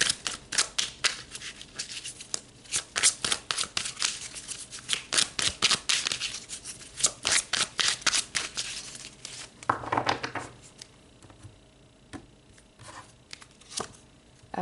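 Tarot cards shuffled by hand in a long run of quick, crisp riffling snaps and slaps for about ten seconds, then a softer card sound and quieter shuffling.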